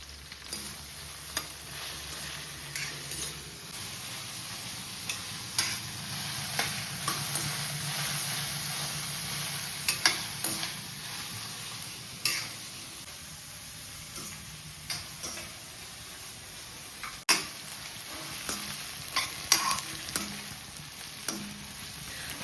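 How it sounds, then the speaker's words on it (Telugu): Onions frying and being stirred in a pan for a home-cooked wild bitter gourd curry, a steady soft sizzle with frequent light scraping and tapping stirs throughout, no talking. "ఉల్లిపాయలు వేసి వేయించుకోవాలి ఈ ఉల్లిపాయలన్నీ సాఫ్ట్గా అయ్యేంత వరకు బాగా వేయించుకోవాలి అంట"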